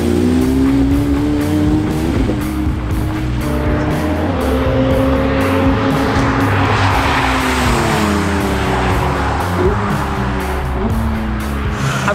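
A Porsche GT3 is driven round a race track, its engine note rising and falling through gear changes, with brief tire squeal. It stays loud and close throughout, with no voices.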